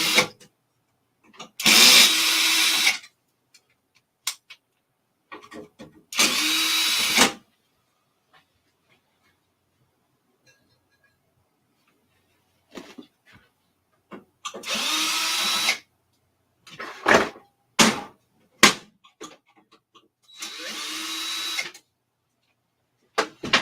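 A power drill backs screws out of a TRS-80 Model 4P computer case in several separate bursts of loud, whining whir lasting a second or so each, with quiet pauses, small clicks and handling noises between them.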